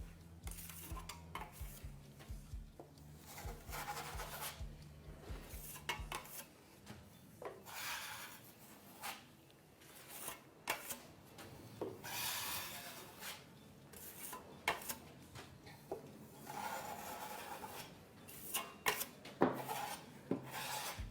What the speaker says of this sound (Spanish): Aquí lo que estoy es dando una capa, por decirlo así, fina de masilla pasta